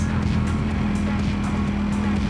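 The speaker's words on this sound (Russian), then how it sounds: "Круто, очень быстро набирает мотоцикл. Гоночный настоящий мотоцикл, спортивный." Ducati Panigale V4 sport motorcycle engine at high revs: a loud, steady, buzzing engine drone that holds a constant pitch for the whole stretch, with no voices.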